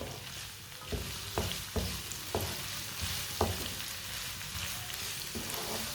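Vegetables fry over a high flame while a spoon stirs them, producing a constant sizzle broken by several sharp scraping knocks against the pan, close and fairly quiet, without speech.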